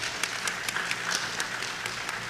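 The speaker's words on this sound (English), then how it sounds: "So give yourselves a clap" A school competition audience of students and adults claps in a steady, moderately loud round with individual hand claps audible.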